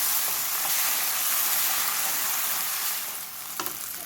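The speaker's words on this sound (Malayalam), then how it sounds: "ഇനി നമ്മൾ ഈ അടിച്ചു വെച്ചിരിക്കുന്ന ടൊമാറ്റോയുടെ കൂട്ട് ഇതിലേക്ക് ഇട്ടിട്ട് ഒന്ന് ഇളക്കി കൊടുക്കും." Ground tomato mixture sizzling and frying in a hot pan while being stirred, a dense steady hiss that fades slightly toward the end with a few soft scraping clinks.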